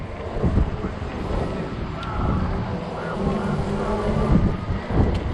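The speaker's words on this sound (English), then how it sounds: "There's the wind again." Strong wind gusts buffet the microphone during a ride on an Ecotric 20-inch 48V fat tire e-bike in 30 mph gusts, a continuous loud roaring rumble that swells and eases with each blast.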